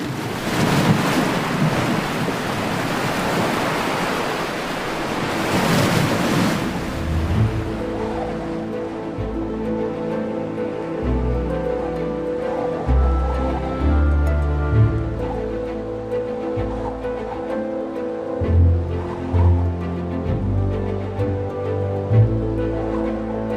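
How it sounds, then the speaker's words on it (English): Wind-driven waves on the sea off Spain in spring, a loud rushing surge of surf with heavy wind buffeting at first, then rolling low swells and gusts. "Falling winds lash the surface of the water. Waves can reach meters in size."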